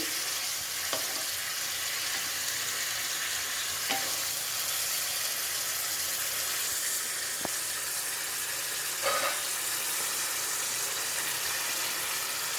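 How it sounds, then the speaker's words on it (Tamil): Vegetables sautéing in a pan for baby corn gravy, a constant even sizzle throughout with a few faint clicks of stirring, close and alone with no voices. "நல்லா வதங்கிட்டுருக்கு"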